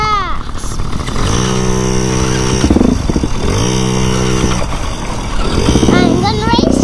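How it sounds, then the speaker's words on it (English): A three-year-old girl rides a small motorcycle on a track, its engine buzzing and revving in rising and falling bursts up close while a child and an adult talk over it. "Might be my most fun day ever riding motorcycles, Presley."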